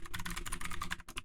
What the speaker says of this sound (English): clacky keyboard in the background